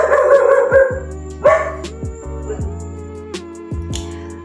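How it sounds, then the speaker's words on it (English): A pet dog barks loudly and close in a home, with a few sharp barks and then quieter yelps trailing off. "that's my dog."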